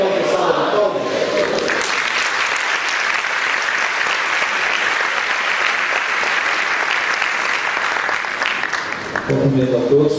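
Church congregation clapping together in a sustained, dense round of applause that fills most of the stretch, opening and closing with a brief spoken voice.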